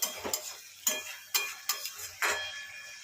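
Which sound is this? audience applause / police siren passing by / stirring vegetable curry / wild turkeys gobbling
stirring vegetable curry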